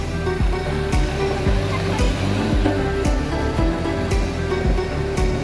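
A stream rushes past on the ride to Purandhara Waterfall in Dang, a loud, steady, close roar of flowing water punctuated by low thumping knocks at irregular intervals.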